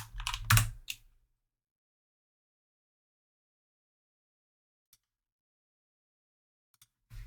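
A short burst of computer keyboard typing, several quick keystrokes clustered at the start, then near silence with a couple of isolated faint clicks and one more tap at the end.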